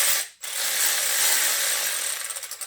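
Snap-on power ratchet tightening bolts on a 2002 Chevy Suburban during rear main seal work, a steady close whirring buzz that pauses briefly, then resumes and ends in rapid clicking as the trigger is eased off.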